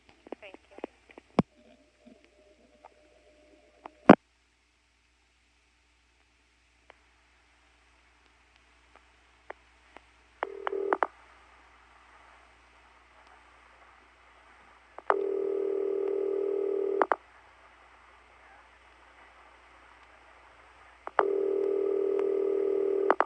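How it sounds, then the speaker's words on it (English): A telephone rings over a line in a 1977 recording from Rock Hill, South Carolina. Scattered clicks and faint tones lead into three long, loud buzzing ring bursts separated by quiet gaps. "This is Ben's phone ringing"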